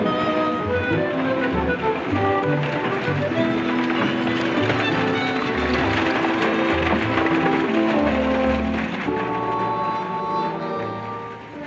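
Horses galloping in a Wild West setting: continuous, busy hoofbeats that hold steady and close for the whole stretch, blended with a dense music score.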